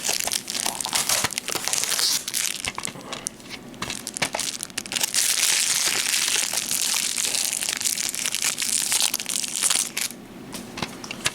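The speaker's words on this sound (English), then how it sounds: "we are going to be careful about taking this sticker off" Continuous crinkling and crackling of plastic close by as a sticker is peeled carefully off an anime DVD case, with rustling handling noise and no talk.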